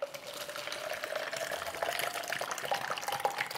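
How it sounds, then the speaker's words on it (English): Shaken strawberry passion fruit green tea pours steadily into a cup, a soft continuous liquid splash and trickle lasting a few seconds at close range with no talking. "Let's pour it into our cup."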